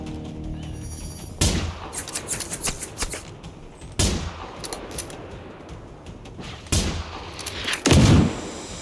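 Gunfire and rocket blasts in the video game Generation Zero, loud sharp bursts in three main volleys, each followed by rapid rattling shots and echoing booms.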